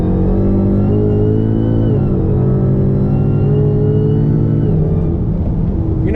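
A tuned Dodge SRT Hellcat Charger's supercharged engine drones loud and close during a 60 roll, a rich harmonic roar that holds steady, dips briefly, then climbs again as the revs rise.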